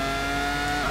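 A Ferrari F2002 race car in Assetto Corsa accelerates hard, a loud steady high-revving engine whine climbing in pitch over one continuous second, with no talk.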